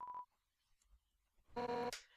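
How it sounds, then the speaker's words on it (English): A phone in the video game Undertale rings: a short electronic beep, a pause, then a louder buzzing ring tone, with nothing else audible. "upon reaching the core approach, I believe you'll get a phone call."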